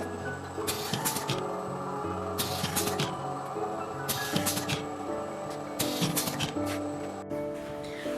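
A servo motor paper tube can edge crimping and curling machine running, giving rhythmic mechanical clanks and bursts of hissing in repeating cycles over a steady motor hum.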